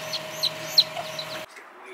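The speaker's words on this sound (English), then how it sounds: "So these are the baby chickens." Baby chickens, about eight or nine chicks, peep in quick high chirps over a steady hum, with several sharp bright cheeps standing out before the sound cuts abruptly quieter near the end.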